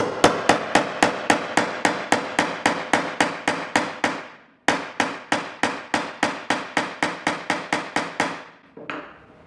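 Rapid, evenly spaced hammer blows tapping a volume insert into wood until flush, around two dozen sharp knocks in two runs separated by a brief pause, close and loud.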